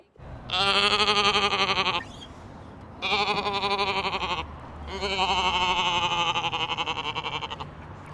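Three long, wavering goat bleats sound close by, separated by short pauses, the last one drawn out the longest.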